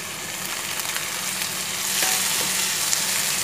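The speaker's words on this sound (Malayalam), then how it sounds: "ഇതിലേക്ക് തക്കാളി കൂടി ഇട്ട് കൊടുക്കാം" Tomatoes and mushroom sauté in a hot pan, a continuous frying sizzle with occasional stirring scrapes, swelling slightly louder partway through, with no one talking.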